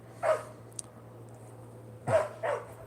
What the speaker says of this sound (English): Left the dog tied to a stump.